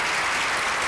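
A short burst of loud, dense audience clapping at the ALT Annual Conference 2018, continuous throughout.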